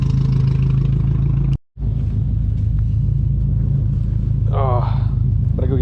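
A Subaru STI rumbles loud and close on a cold night, a continuous deep engine drone with a brief dropout. A short rising rev or whine comes near the end, and voices talk over it.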